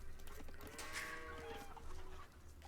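Cattle low and moo in an Age of Empires match, a few drawn-out calls rising over a steady bed of game ambience with no talk.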